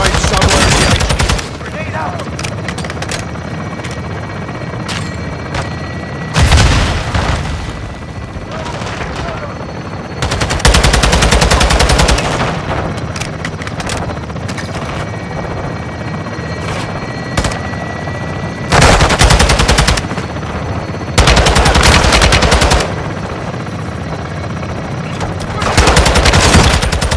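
A helicopter gun run in Modern Warfare 2: heavy bursts of machine gun fire come in several long loud volleys over a constant rotor drone, with gaps of engine hum between bursts.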